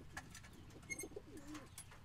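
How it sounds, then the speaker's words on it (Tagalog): Hungry pet pigeons or doves coo in soft, low repeated calls with a few faint chirps, quiet and close, with no one speaking. "So mukhang gutom pa yung mga ibon natin, so bubusugin natin sila ngayon."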